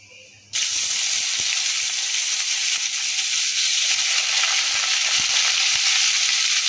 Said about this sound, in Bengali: ফোড়ন ভাজা হয়ে গেছে, এক একটু করে মেঝে ডালগুলো দিয়ে দেবো।